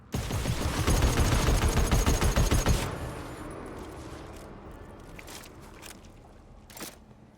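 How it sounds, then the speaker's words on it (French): A sustained burst of rapid automatic gunfire in the co-op shooter GTFO, played with mods, rattles loudly for about three seconds, then cuts off to quieter ambient clicks and a faint shot or two. "Ouais, je suis prêt, je suis prêt. Ok, je tire."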